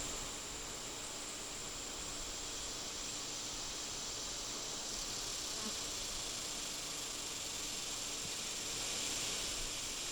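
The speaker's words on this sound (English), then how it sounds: "We have a queen piping in this box." A queen honeybee pipes inside a hive box, a thin steady tone barely rising above the dense, continuous buzzing of many bees throughout, close and with no voices.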